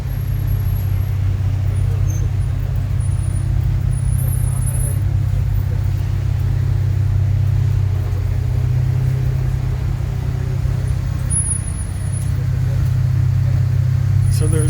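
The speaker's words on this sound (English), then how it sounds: "So there's quite a bit of traffic going into Reynosa at this time of night." Steady road traffic heading into Reynosa, Mexico at night near the border river, a continuous low engine rumble and tyre roar from passing cars, moderately loud and unbroken throughout with no clear gaps between vehicles.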